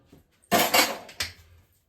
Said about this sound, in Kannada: ಫಸ್ಟು ಪಾತ್ರೆಗಳು ತೊಳೆದು ಬಿಡೋಣ ಅಂತ ತಗೊಂಡಿದ್ದೀನಿ